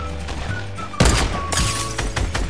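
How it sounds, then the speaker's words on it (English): In a Fortnite Battle Royale match, an RPG fires with a sudden loud blast followed by a rumbling burst of explosive noise and scattered crackling impacts, heard close and dense over game ambience. "He just shot an RPG."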